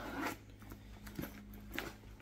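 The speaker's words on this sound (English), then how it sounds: "So, we have a zipper." A zipper being drawn on a stiff new purse, heard as a few quick, close scratchy zips with short pauses between strokes in a quiet room.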